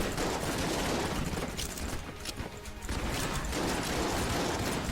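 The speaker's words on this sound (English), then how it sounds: "He is doing missiles though." A boss in Enter the Gungeon fires missiles in a dense, continuous barrage of rapid mechanical bursts and clattering blasts, loud and busy throughout, briefly thinning in the middle before resuming.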